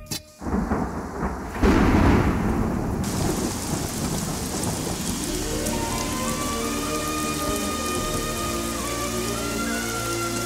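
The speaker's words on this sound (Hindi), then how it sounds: "तुम्हारी मेहनत और अच्छी सोच देखकर इतनी बारिश हो गई" Heavy rain pours steadily and loudly, opening with a sharp crack of thunder and a rumbling roll, then settling into a dense continuous downpour with no voices.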